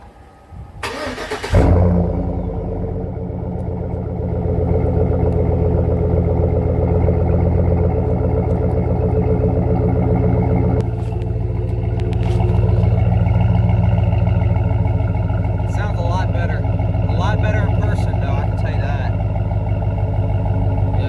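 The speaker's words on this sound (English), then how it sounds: "I'm going to go ahead and set you guys down and give you guys a start up." A black car's engine cranks and catches with a sharp burst near the start, then settles into a loud, steady idle that swells at times as the throttle is blipped, heard up close with no talk.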